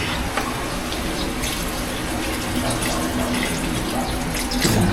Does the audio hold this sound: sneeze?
no